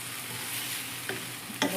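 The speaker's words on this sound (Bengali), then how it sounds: "ব্লেন্ডারে কিমা করে তারপরে ভাজি করতেছি" Minced samosa filling, blended and then fried in a pan, gives off a steady soft sizzle with a stir or scrape near the end. It is close and fairly quiet, and no one talks.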